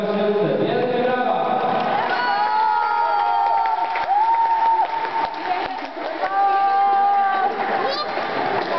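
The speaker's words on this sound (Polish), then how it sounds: "Wielkie brawa!" A crowd claps and cheers loudly for the winning UKS Dziewiątka Siedlce team at a 2010 Jeruzal tournament, with high excited shouts and whoops, many from children, over steady applause throughout.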